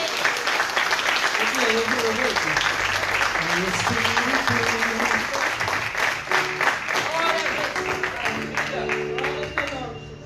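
A church congregation claps loudly and continuously while voices and sustained tones, like singing or an organ, carry through the clapping in a worship service.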